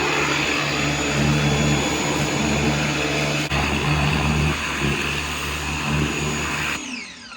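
A Ryobi 1600 psi electric pressure washer runs loudly and steadily while spraying vehicle wheels, with a constant motor whine and water hiss that cut off near the end.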